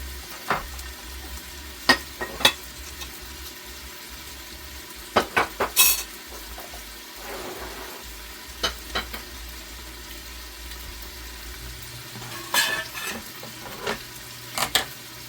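Sausage and onions fry in a pan with a soft continuous sizzle, broken by scattered clinks and scrapes of a utensil against the pan, some in quick clusters, with a low hum underneath and no talking.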